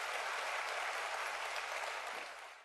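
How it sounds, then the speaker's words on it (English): Audience applause for a business leader being introduced on stage, a dense steady wash of clapping that holds evenly and tapers off slightly at the end, with no voices over it. "Please give a warm round of applause for H. Wayne Huizenga."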